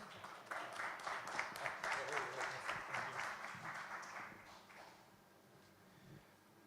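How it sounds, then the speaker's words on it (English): An audience at a conference event in Buenos Aires applauds a speaker, with a steady burst of many hands clapping that is strong for about four seconds and then thins out and fades. "A big applause for him, please."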